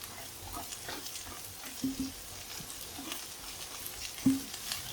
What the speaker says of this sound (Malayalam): ഇതിപ്പോൾ ഞാൻ വറുത്ത് വെച്ചിരിക്കുന്ന പറഞ്ഞാൽ ഇതിലേക്ക് ഇട്ടൊന്ന് മിക്സ് ചെയ്യുന്നതേ ഉള്ളൂ